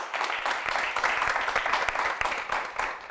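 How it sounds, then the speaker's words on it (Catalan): An audience on a children's spelling quiz show gives a contestant steady applause. The clapping is dense and continuous, sits at a moderate level and runs the whole time without a break. "Un fort aplaudiment per ella."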